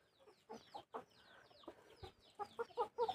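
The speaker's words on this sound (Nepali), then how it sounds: "यो कुखुराहरू चाहिँ हेर्नुहोस् है" Household chickens and a one-year-old rooster cluck in a close, lively burst of calls, with the sharpest clucks bunching toward the end.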